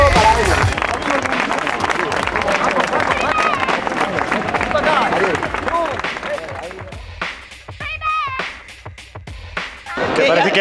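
Loud applause and crowd noise from a large gathering, fading toward the end with scattered voices and whistles.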